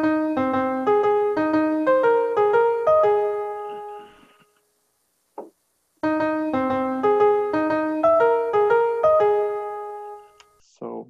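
Piano plays two short, matching melodies for a listening test, the second carrying one subtly altered note; clear, close notes in steady rhythm, separated by a pause, with no talking.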